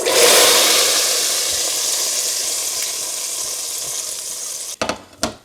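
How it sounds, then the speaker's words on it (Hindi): A hot tadka of cumin, fennel and curry leaves in oil poured into a pot of Delhi-style beef nihari, a loud, broad hissing sizzle that slowly fades, followed by a few clanks of a spoon or pot, no talk. "हमारा तड़का तैयार है। अब हम इसे निहारी में डाल देंगे।"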